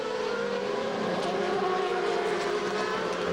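GP2 race cars at the Hungary circuit in 2006 howl past in a continuous, loud high-revving engine drone, with steady pitch bands and no voices.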